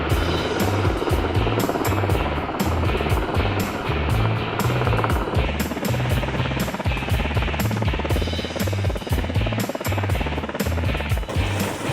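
A firefighting helicopter carrying a Bambi bucket during a fire brigade exercise thunders continuously with a rapid rotor chop, loud and close for the whole stretch.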